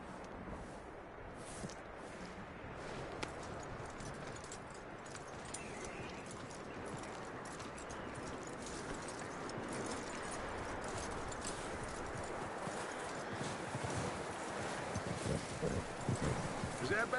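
Horse hoofbeats clop steadily over outdoor wind and rustling in the video game Red Dead Redemption 2, a continuous even gait at moderate distance.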